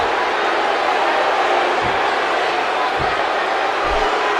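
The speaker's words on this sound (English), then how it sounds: "this crowd in Las Vegas do not seem to be happy to have him back" A large wrestling crowd in a Las Vegas arena keeps up a loud, continuous roar of booing and jeering, with a few dull thuds breaking through the steady wall of noise.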